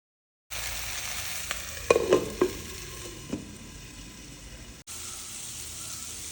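Ivy gourd stir-fry being stirred in a pan, a soft sizzle with a few distinct scraping and clattering knocks from the spoon near the start, then a quieter steady fry.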